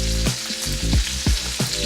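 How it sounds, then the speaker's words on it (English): NY strip steak sears in a hot pan with melting butter, a steady loud sizzle and crackle running throughout with brief spattering pops. "I cut up a couple of pieces of butter and just let it melt."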